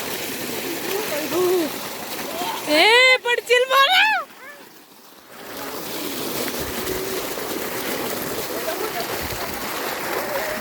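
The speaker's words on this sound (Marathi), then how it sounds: "this is our natural waterfall" Natural waterfall in a village, its steady broadband rush running throughout beneath talk and a brief shrill, excited voice.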